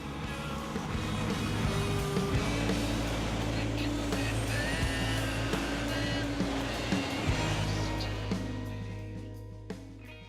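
A truck's stock 460 Detroit engine runs at a steady, heavy idle, a deep drone with a constant hum close by, plus a few faint clicks and rattles and a brief dip near the end.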